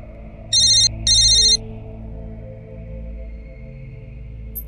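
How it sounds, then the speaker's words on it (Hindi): A telephone rings in two short electronic bursts, then stops, leaving a quiet low hum in the background. "संतोष जी को फोन करते हैं हम"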